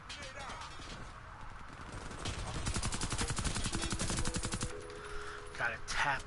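Rapid bursts of light machine gun fire ring out in an online shooter match, sustained automatic rattling at moderate loudness, with faint player voices around it.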